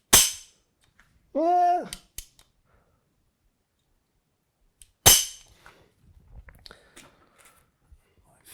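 A MAKtrigger hair trigger set in an MR223 rifle lower on a semi-auto sporting rifle snaps twice, each a sharp, loud crack several seconds apart. A short voice sounds between them, followed by faint handling clicks.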